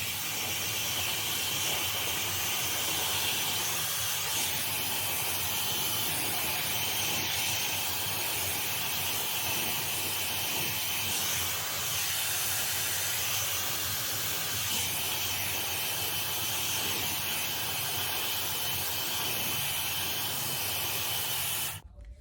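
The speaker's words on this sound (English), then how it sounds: "I'm gonna use the hair dryer real quick for like 2 minutes." A loud, steady rush of blowing air from a Dyson Airwrap with a constant whirring hiss, running unbroken for about twenty seconds before cutting off abruptly.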